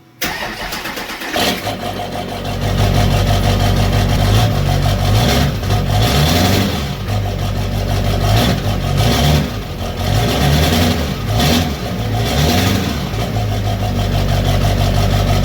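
The Duramax diesel engine of a 2001 GMC Sierra 3500 with a new heavy muffler cranks and catches, then idles with a deep rumble, revving several times in loud bursts before settling back.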